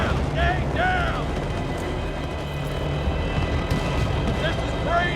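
In Battlefield Bad Company 2 gameplay, a dense, loud roar of helicopter and battle noise fills the scene continuously, with brief sharp whistling sweeps and raised voices over it.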